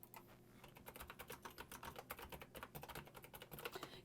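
Rapid, uneven typing on a computer keyboard, close and crisp, with dense clicking keystrokes that run steadily throughout and no voices.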